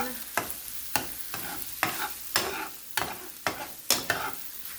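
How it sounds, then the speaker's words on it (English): Eggs scrambling in a hot pan with mushrooms, onions and curry powder, a soft sizzle broken by regular sharp scrapes of a utensil stirring, about two per second, close and alone. "it goes really fast. You don't want to burn the eggs, so it's just pretty much scrambling the eggs."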